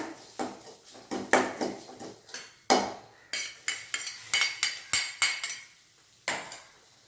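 Beans stirred in a frying pan with a utensil, giving a run of close, sharp scraping and clinking strokes against the pan in an uneven rhythm, with brief pauses between bursts.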